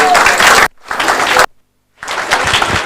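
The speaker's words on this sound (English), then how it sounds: "Can we all welcome him with a huge round of applause?" Audience applause at a tech fest welcoming a speaker to the stage: loud, dense clapping that breaks off twice into brief silences before resuming.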